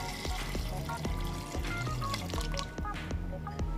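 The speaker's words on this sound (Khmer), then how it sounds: "ចាក់ទឹក ចាក់ទឹកនឹងចូលដែរ" Water poured into a mashed cooking mixture for a Cambodian bamboo shoot and fish soup, a continuous close splashing rush with small irregular drips and clinks over the few seconds.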